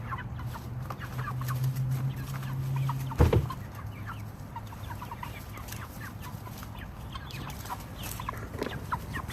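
Backyard chickens let out to roam a garden, clucking in soft, scattered calls with one louder squawk midway, close by over faint outdoor background noise.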